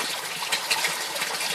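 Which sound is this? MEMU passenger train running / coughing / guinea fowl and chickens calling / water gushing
water gushing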